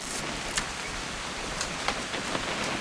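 Rain falling steadily in the video game What Remains of Edith Finch, an even hiss of drops on surfaces with a few sharper individual patters.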